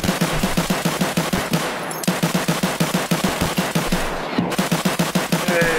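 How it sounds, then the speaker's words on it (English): Rapid automatic gunfire in the shooter game Escape from Tarkov, loud close bursts of evenly spaced shots fired as suppressing fire, with a couple of brief pauses between volleys. "Suppressing fire!"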